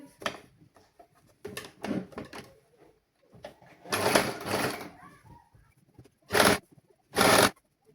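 Sewing machine stitching around a folded seam in short bursts of whirring, some brief and some longer, separated by pauses with quiet handling noises and a little talk.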